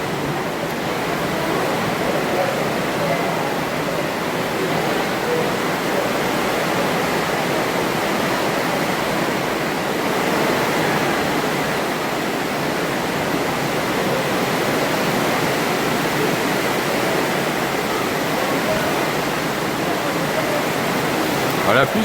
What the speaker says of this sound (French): voici donc un orage, parce que les estivales c'est aussi ça, un orage